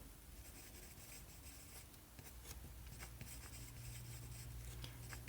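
Pen or marker scratching out a math expression on paper or a board, a steady soft scraping with small taps, fairly close and alone.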